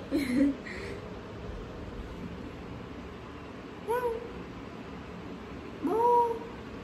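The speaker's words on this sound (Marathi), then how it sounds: "कोण आहे ही मांजर?" A pet cat gives two short meows, one near the middle and a louder one near the end, with brief voice-like sounds at the start over a quiet indoor room.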